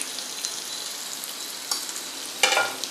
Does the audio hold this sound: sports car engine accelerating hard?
no